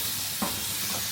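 Cabbage being stirred in a hot pan, a steady hiss and sizzle with one brief scrape of the spoon partway through.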